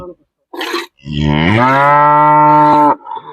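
On a buffalo farm, a single cow gives one long, loud moo close by that rises and holds steady for about two seconds. Short, faint sounds come just before and after it.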